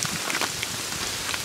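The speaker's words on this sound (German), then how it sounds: "Es ist jetzt heute schon das fünfte Mal, dass es hagelt." Hail falls on Stewart Island, New Zealand, a dense, steady pattering of small icy pellets striking the ground and surfaces close by, with no voices.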